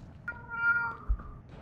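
A short cat meow plays once as a notification during an H1Z1 game session, a single clear tonal cry with a soft thump after it and no talking.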